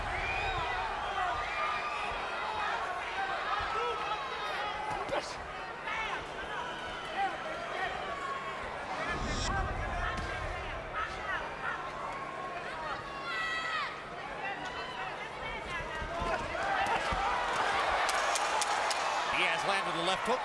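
Arena crowd at a Juan Manuel Marquez vs Juan Diaz boxing rematch, a continuous roar of cheering and shouting that swells louder near the end, with a commentator talking over it throughout.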